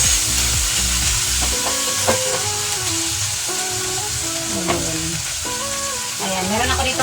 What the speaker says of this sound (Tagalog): Alo-aloin natin ito para hindi siya madaling masunog